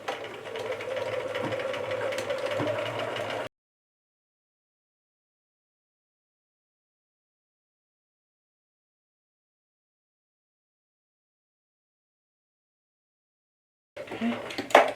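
A sewing machine stitches the crown of a summer hat, running steadily for about three seconds before cutting to silence, then a brief clatter returns at the very end.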